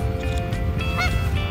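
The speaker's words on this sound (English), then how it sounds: "There's the one that's honking. That's the goose." One loud goose honk rings out in a park against a constant low hum of background noise, no voices present.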